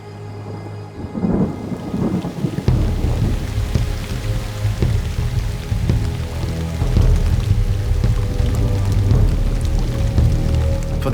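Heavy rain pours down steadily with low rumbling thunder rolling beneath it, a dense, continuous wash of sound with no voices.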